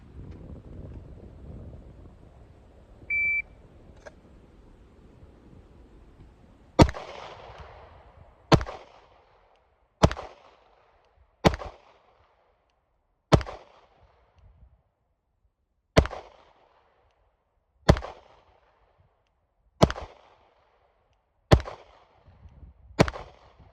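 Pistol fired one-handed at a range during a strong-hand-only drill, ten sharp separate shots spaced one to two seconds apart after a quiet stretch with faint wind noise.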